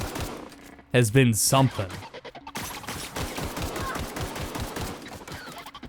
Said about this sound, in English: I'm shooting now